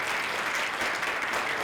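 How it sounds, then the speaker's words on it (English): An audience applauds a conference panel at a retail event, a dense steady clapping that fills the short stretch without pause, with no talk over it. "So give all of them a big round of applause,"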